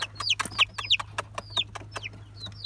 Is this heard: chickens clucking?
yes